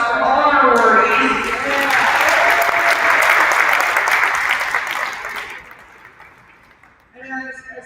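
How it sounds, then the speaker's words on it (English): An audience applauds for awardees at a ceremony, loud, dense clapping that holds for about five seconds, then fades out before a voice resumes speaking. "let's give a round of applause for all our awardees"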